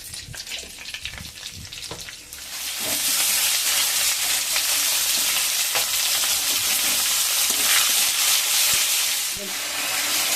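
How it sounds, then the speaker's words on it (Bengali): Loud, steady sizzling of spices and white cumin frying in hot oil for a meat curry that swells after a couple of seconds and continues with occasional clinks of stirring. "এবার তেল দিয়ে মশলা কষিয়ে মাংস রান্না হবে"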